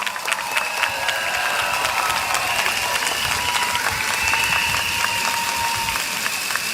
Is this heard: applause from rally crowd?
yes